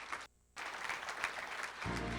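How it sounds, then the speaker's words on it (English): Applause from a conference audience for local port executives, a brief, moderately quiet patter of clapping interrupted by a short dropout, then continuing with a low hum underneath. "if we could give our respective executives from our local ports a big round of applause"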